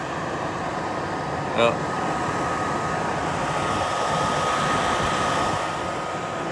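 A steady, loud Telair Dual Clima 8400H caravan roof air conditioner running at full, heard up close from underneath, a constant broadband whoosh of fan and airflow with a brief faint tonal blip early on.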